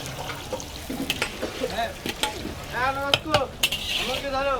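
Chopped onions frying in oil in a large pot for kala bhuna, stirred with metal scrapes and clanks over a steady sizzle, while people talk nearby.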